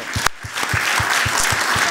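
A round of applause from parents at a school safety program, with the clapping steady and fairly close for under two seconds.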